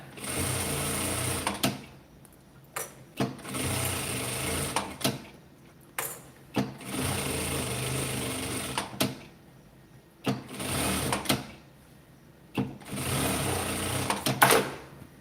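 A sewing machine stitches bias binding onto a fabric-scrap basket, running in several fast bursts of a few seconds each with short quiet breaks between, close and clear.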